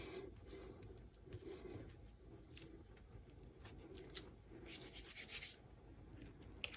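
Ranger foil sheet being burnished down by hand, giving a soft, steady rubbing and scraping close by, with brief brighter scratchy bursts and no talking.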